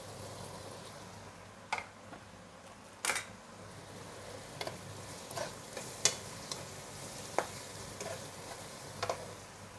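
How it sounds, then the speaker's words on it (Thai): Chicken and holy basil leaves being stir-fried in a pan, with soft continuous sizzling under a scatter of sharp clicks and scrapes from the spatula, fairly quiet and close. "แล้วก็ใส่ใบกะเพราค่ะ"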